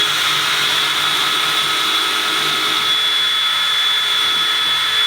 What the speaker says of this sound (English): I'm going to go ahead and drill these pilot holes